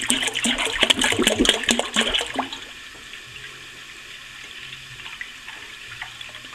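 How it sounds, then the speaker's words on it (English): A gallon of milk is poured into a six-quart pot, giving a loud, close splashing gush for about two seconds before it settles into a quieter, steady trickle. "So we first start by pouring a gallon of milk into a quart pot."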